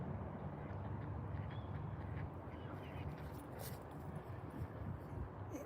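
Ducks quacking, both drakes and hens, a faint, ongoing chorus of quacks with a few louder calls mid-way.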